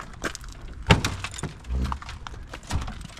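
Crushed Ford Bronco door being forced open, a series of scattered metallic clunks, creaks and rattles with one sharp bang, close and fairly quiet.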